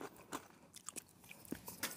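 Crunchy green beans chewed close up at a woodland wild camp, giving a quiet run of crisp bites and wet crunches spaced irregularly over two seconds, with no talking.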